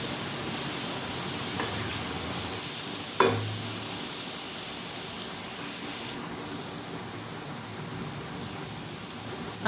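A spoon stirs an onion, garlic and ginger mixture frying in oil, with a continuous soft sizzle and a few scattered scrapes, one louder knock against the pan partway through.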